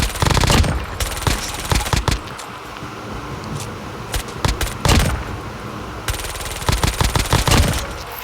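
Rapid automatic bursts from a machine pistol fired from the hip in a video game, close and loud, coming in several fast rattling volleys separated by brief pauses.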